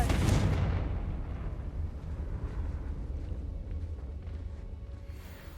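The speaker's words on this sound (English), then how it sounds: "Confringo!" Confringo fire spell blasts in the video game Hogwarts Legacy, a loud opening boom that decays into a sustained rumbling, crackling roar lasting several seconds with no talk.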